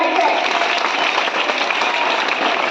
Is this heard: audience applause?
yes